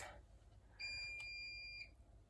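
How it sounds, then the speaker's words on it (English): A domestic washing machine beeping: one steady electronic tone held for about a second, faint and indoors over a low background hum. "That's my washing machine beeping."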